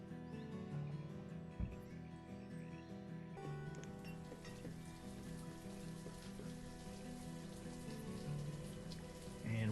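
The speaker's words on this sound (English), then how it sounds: "we can only assume they've learned to love the rain." Steady rain falls in a Banished village, a constant hiss of drops layered over game ambience with soft tonal music throughout, a few brief thumps near the start and end.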